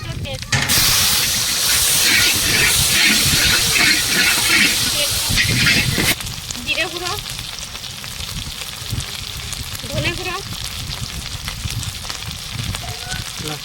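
Bay leaf, panch phoron, dried and green chillies, ginger and garlic dropped into hot mustard oil for khichuri, a loud steady sizzle and hiss that softens after a few seconds, with a voice talking over it.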